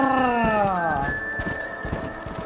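Horses in the Red Dead Redemption video game whinny loudly and up close, one long descending neigh, then a steady clip-clop of hooves continues through the rest of the moment.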